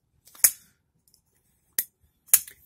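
A WE 715D Ignition folding knife with VG10 blade is flicked open by its flipper three times, each a sharp isolated metallic snap against near silence.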